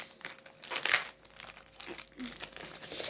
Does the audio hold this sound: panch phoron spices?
no